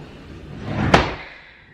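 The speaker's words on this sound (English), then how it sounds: "my son is like playing with our drawers" A child slides and bumps a drawer shut in an empty house, one soft sliding rush building to a single sharp knock, then fading.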